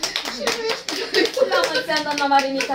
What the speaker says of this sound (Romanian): Aplauze pentru doamna Marinica!